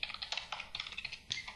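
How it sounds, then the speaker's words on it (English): Rapid typing on a computer keyboard, with close, crisp key taps in uneven bursts and a short pause before the clicking resumes. "talking and typing at the same time is difficult for me"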